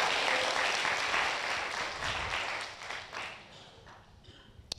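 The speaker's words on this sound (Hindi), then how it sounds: "ताली बजा के, हालेलुया चिल्ला के।" A church congregation at a Hindi sermon claps and cheers in praise, dense applause that starts loud and gradually thins and fades out over a few seconds.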